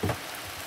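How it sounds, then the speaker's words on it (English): Rain begins falling outside a tiny house on wheels, a soft continuous patter and hiss after a brief bump at the start, fairly faint and close. "Here comes the rain."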